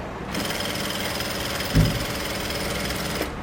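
Sewing machine stitching fabric during a stitching class, a steady continuous mechanical whir running close and even throughout, with a brief thump near the middle.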